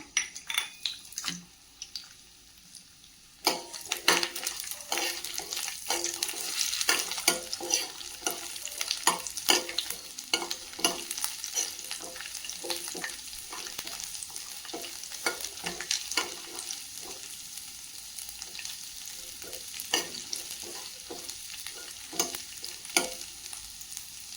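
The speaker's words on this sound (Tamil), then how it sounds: "இதில் இந்த 10 பல் பூண்டை போட்டு நல்லா வறுத்து எடுத்துக்கலாம்" Ten garlic cloves frying in plenty of oil in a hot kadai, a continuous close sizzle broken by frequent scraping and clinking of a spatula against the pan, with no voices.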